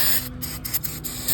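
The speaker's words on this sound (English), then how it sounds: "you have to spray them with brake cleaner to get that chemical off" Brake cleaner sprayed from an aerosol can onto a new brake rotor resting on cardboard during a brake and rotor job on a 2016 Honda HR-V: a steady close hiss broken by a few short pauses and bursts.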